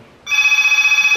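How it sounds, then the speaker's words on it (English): A telephone bell rings loudly and steadily in a rapid warbling trill, starting abruptly after a short quiet moment and continuing without pause to the end. "We have to cut that out because the telephone's ringing."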